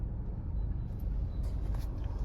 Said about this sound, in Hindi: traffic he traffic